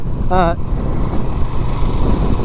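A Moto Guzzi Eldorado motorcycle engine rumbles steadily as the throttle is rolled on, a low, continuous drone mixed with wind noise, with a brief voice-like tone near the start.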